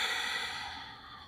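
Heavy, audible breathing from someone catching their breath between sets of an advanced mat Pilates workout, a single long exhale fading over about a second, close and alone.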